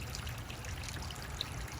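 Water from a garden hose runs into a barrel with a steady, close trickling and splashing flow, continuous and alone.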